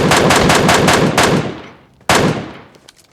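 Automatic rifle fire in the mobile shooter PUBG Mobile Lite, a loud rapid burst of shots that trails off, then a second sharp burst, close and with no talking.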